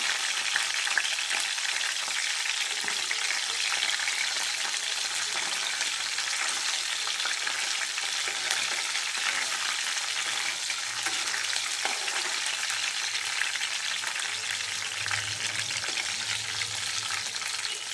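Green chillies and curry leaves fry in hot oil in a pan, giving a continuous, even sizzle with bright crackling spatter that holds steady for the whole stretch, with a faint low clatter near the end.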